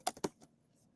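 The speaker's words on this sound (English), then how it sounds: "I'm typing in" Typing on a computer keyboard: a few quick, close key clicks in a short burst, quiet and alone, trailing off into near silence.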